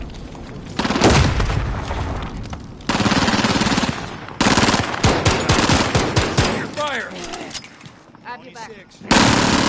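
Call of Duty gameplay is full of loud, rapid machine-gun bursts and gunshots coming in several clusters, with short gaps and voices calling out between volleys.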